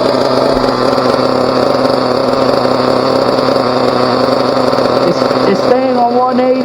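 A Team Associated RC nitro engine idles with a steady, high-pitched buzzing drone, loud and close, running evenly throughout.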